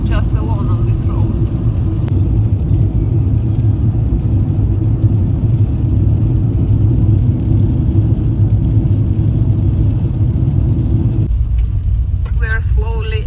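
A car driving on a gravel road in Iceland gives a steady, loud low rumble of engine and tires on loose stones from inside the cabin, lasting throughout and easing near the end.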